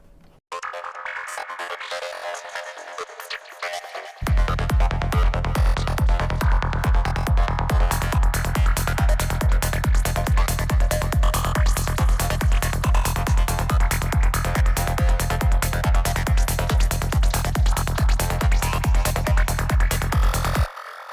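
A psytrance synth patch built with the GridFather plugin: a brief atmospheric intro, then a relentless pounding kick and bass groove with buzzy, gated synth layers driving steadily for about sixteen seconds, loud and upfront.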